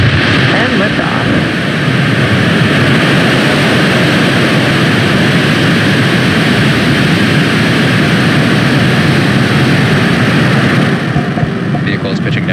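Rocket engine roaring at liftoff in the Spaceflight Simulator game, a loud, dense, unbroken broadband roar sustained throughout, easing slightly at the very end.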